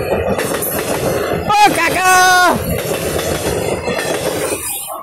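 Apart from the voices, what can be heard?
train passing along railway line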